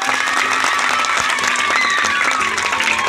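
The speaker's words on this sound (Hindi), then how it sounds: "ताली हो जाए" Loud, continuous applause from a village panchayat ceremony honouring class 10 toppers, a dense crowd clapping steadily for the full stretch with faint voices mixed in.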